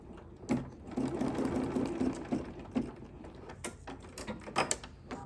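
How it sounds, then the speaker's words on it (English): A Kimberbell-project embroidery machine stitches a placement line for a snow-themed hot pad, giving a steady rapid mechanical chatter for a few seconds, then pausing into irregular clicks and thumps of the machine and hoop handling. "Then we're going to stitch our placement line"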